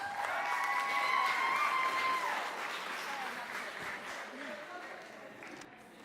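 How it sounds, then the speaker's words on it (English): Wedding guests applaud the father of the bride at an evening reception, a steady wash of clapping and a few cheers that peaks early, then thins and fades away. "Let's give this handsome gentleman a nice round of applause"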